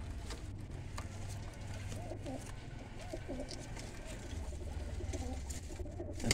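Golden pigeons coo softly in repeated low, rolling phrases, nearby, over a steady background rumble.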